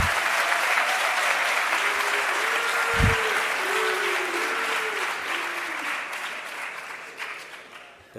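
A lecture audience applauds steadily for several seconds, a dense, loud wash of clapping that slowly fades, with someone speaking over it.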